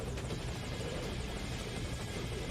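Helicopter in the Metal Gear Solid V: Ground Zeroes video game, a continuous loud whirring rotor and engine drone with steady rumble throughout, no distinct impact or explosion standing out.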